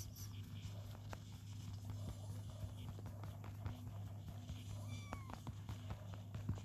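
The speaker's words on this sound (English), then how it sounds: "Oh, cats." Cats meowing in the video game PickCrafter, a few short mews rising over a steady low electronic hum and game sounds, with faint pattering steps.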